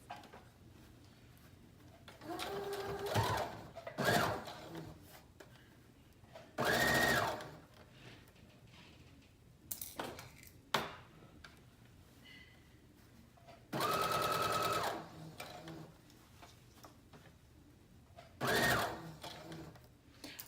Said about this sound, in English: I'm gonna go ahead and sew the hem on the flounce and the bottom of the dress.